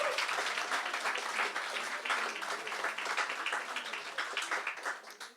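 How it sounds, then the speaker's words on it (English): An audience at a YMCA Cork celebration event breaks into dense, sustained applause, fairly close and steady for several seconds before tapering slightly, with a faint voice underneath. "And I think Ronan deserves a big round of applause for all the work he's done."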